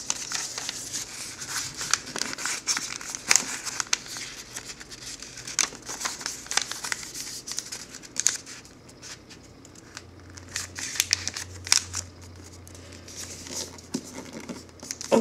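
Paper being folded and creased for an origami pinwheel: soft crinkling and rustling with short sharp crease snaps, close and fairly quiet, over a faint low hum, and no one speaks.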